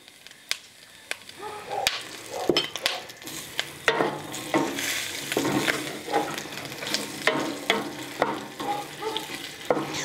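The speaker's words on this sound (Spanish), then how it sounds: "Le voy a poner poquito aceite para que dore pareja." Beef browning in a little oil in a pan while being stirred, giving steady close sizzling with sharp utensil clicks and scrapes against the pan.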